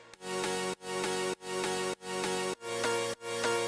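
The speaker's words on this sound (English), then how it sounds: "Then I rendered out the chords that I made in Silent in FL Studio" Sustained synthesizer chords rendered in FL Studio repeat in six even blocks, each held about half a second before a brief gap, bright and harmonically rich with no voices.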